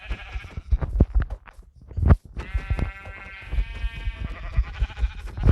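Sheep bleating in Minecraft, several drawn-out bleats over clattering game sounds and background noise.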